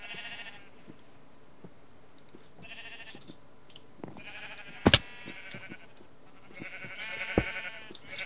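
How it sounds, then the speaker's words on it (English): Sheep bleat repeatedly in a video game, several wavering calls spread across the clip at moderate loudness, with brief sharp clicks in between and no talking. "odd coloured sheep keep getting in"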